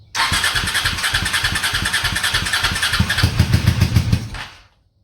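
A Honda Shadow motorcycle engine cranks and catches, then runs rough and uneven as if starving for fuel, loud and close for about four seconds before cutting out.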